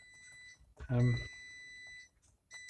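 Electronic beep from a bread machine signalling the bread is done, a clear, sustained tone that sounds briefly, then again, with a voice speaking over it.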